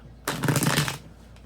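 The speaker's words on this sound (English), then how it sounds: "let me get one more shuffle" A single quick riffle of cards lasting under a second, crisp and close, followed by quiet.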